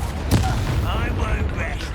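Confringo explosive spell blast in Hogwarts Legacy, a loud booming burst with a broad rumbling tail, heard up close in game combat.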